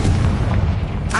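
A Confringo fire spell explodes in Hogwarts Legacy, a loud, dense booming roar that fills the whole moment and brightens briefly at the end.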